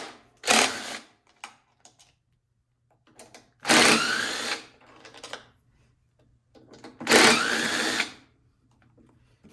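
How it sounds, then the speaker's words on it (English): A power tool spins out bolts from the air filter box of a Honda small engine during carburetor removal. Three separate loud whirring bursts of a few seconds each are heard close up, with quiet clicks between them. "we got to remove these 3 bolts to get to the carburetor"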